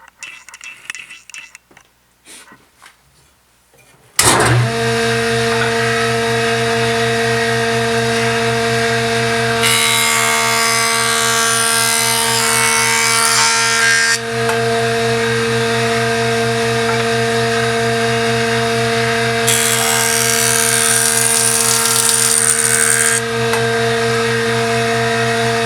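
A power saw rips through wood stock for tapered table legs in one long, loud continuous cut with a steady motor whine and harsh rasping that swells and eases as the blade works downhill through the board.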